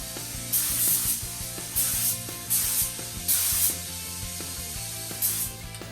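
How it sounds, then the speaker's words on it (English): Several short bursts of spray hiss from spray painting Suzuki Boulevard motorcycle parts come at a steady pace over a low mechanical hum, each lasting about half a second. "tack it, ready to spray."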